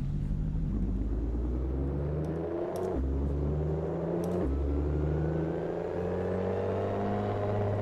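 A Ferrari LaFerrari with a computer-controlled clutch pulls away from rest at moderate throttle, its engine note climbing steadily with two brief dips as the revs drop, a close, continuous rising drone heard alone.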